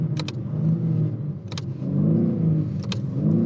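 Synthetic engine sound of a BMW M3 Touring piped through the car's cabin speakers, a low droning rev that rises and falls, with three sharp clicking taps from the paddle shifters spaced across it.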